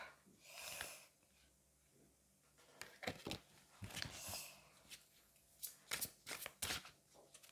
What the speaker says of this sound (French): on va prendre une carte de l'oracle des dragons protecteurs